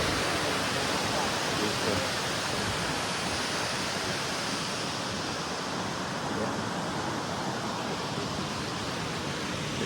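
Dunn's River Falls in Jamaica pours in a steady, dense roar of rushing water close by, with someone speaking briefly over the constant wash.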